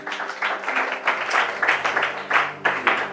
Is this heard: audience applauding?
yes